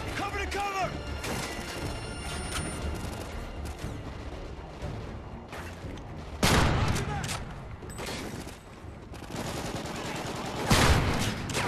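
Sustained rapid gunfire and bursts from a Call of Duty: Ghosts firefight, dense and loud, with sharp heavier blasts standing out, while a voice shouts over the battle.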